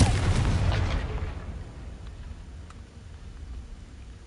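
A Confringo spell explosion in a Harry Potter video game, a loud booming blast right at the start that rumbles and fades away over several seconds, with no talk over it.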